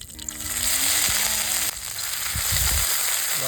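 Hot oil sizzles loudly in a pan as curry leaves, cumin and a crushed chilli-garlic paste go in for a bombil chutney, a steady hiss with a few crackles and knocks toward the end.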